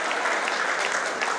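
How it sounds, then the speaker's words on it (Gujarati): Steady, dense audience applause fills a youth talent award and prize-distribution ceremony, a continuous even clatter of many hands throughout with no talk over it. "જોરદાર તાળીઓના"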